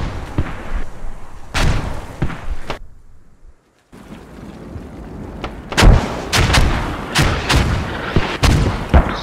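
Mortar rounds fire in the tactical shooter Squad: heavy booming launches and rumbling explosions, loud and close, with a brief silent gap before a denser run of sharp blasts.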